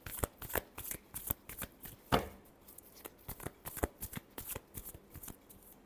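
Tarot cards are shuffled by hand in quick, crisp riffles and slaps, a rapid irregular run of close, fairly quiet snaps with no talk.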